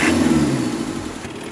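A turbocharged diesel engine in a 1988 Land Rover Santana crawler, a steady close mid-pitched roar with turbo whistle that eases slightly toward the end.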